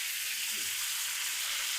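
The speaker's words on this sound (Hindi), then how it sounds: "ये सारा अल्हम्दुलिल्लाह मक्खन के अंदर ही पक रहा है और बहुत अच्छा से पक रहा है।" Steak cooking in butter in a pan over a lowered flame, giving a steady, soft sizzle and frying hiss that runs evenly throughout without any voices.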